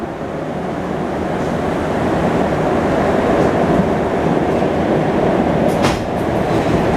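A Montreal metro MR73 train at Berry-UQAM station roars steadily and loudly, its rubber-tired running and rail noise filling the platform with a continuous dense rumble and a faint brief squeal near the end.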